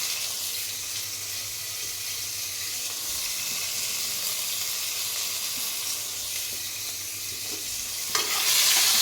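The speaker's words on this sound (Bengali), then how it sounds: "নাড়াচাড়া করে রাখি।" Tomatoes with salt fry in a pan, a steady soft sizzle with light stirring, followed near the end by a sudden rush of louder hissing, no talking.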